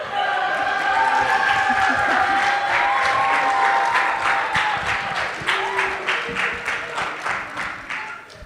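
An audience at a family talent night breaks into applause as a performer walks on stage. The clapping is full at first, then thins into separate claps, with a few whoops and voices over it.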